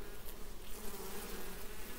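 Honey bees buzz steadily inside an open beehive, a dense close drone with a sustained hum that holds level throughout without breaks.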